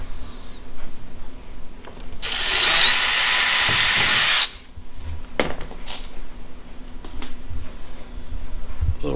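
Power drill driving self-tapping stainless steel screws into a Perception Outlaw 11.5 kayak hull, one loud sustained whir of about two seconds, then quieter handling clicks and taps nearby.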